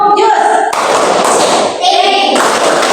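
Students in an Indonesian classroom do a rhythmic clap chant led by their teacher, with loud close hand claps and thumps mixed with chanted voices in a quick patterned beat.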